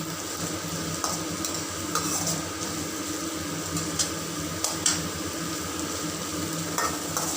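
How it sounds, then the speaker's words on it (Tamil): Onions sauté in hot oil in a pan for a curry leaf and garlic kulambu, giving a steady close sizzle broken by occasional scraping stirs of the spoon. No voices are heard. "நல்லா வெங்காயத்தை எண்ணெயிலே வதக்குங்க"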